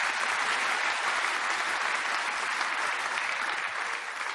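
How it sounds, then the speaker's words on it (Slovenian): A comedy-roast audience applauds Boris Kobal, a dense, sustained wash of clapping holding steady for several seconds before easing slightly at the end. "Prosim, dajmo en aplavz, prosim,"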